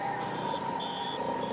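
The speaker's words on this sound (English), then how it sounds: "Squeal of the brakes in the wet conditions." Bicycle brakes squeal in wet conditions during a professional road race stage, with a steady tonal whine and repeated higher squeal pulses over a constant background roar.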